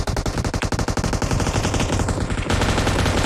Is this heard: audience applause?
no